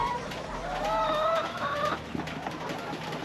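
Several chickens clucking and calling close by on a farm, with drawn-out squawks over a low background hum.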